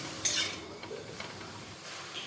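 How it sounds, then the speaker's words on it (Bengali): Susuni greens being stirred in a pan as they cook down without added water, with a sharp metallic scrape at first, then softer stirring and a faint sizzle, close and quiet. "মাঝে মাঝে নেড়ে নেব যতক্ষণ না জলটা শুকিয়ে যাচ্ছে যেন পুড়ে না যায়"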